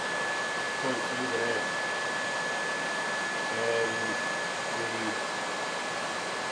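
An electric radiator fan motor on a Honda CX500 motorcycle runs with a steady, even whirring hum from start to finish. It sounds close, and a voice talks faintly underneath.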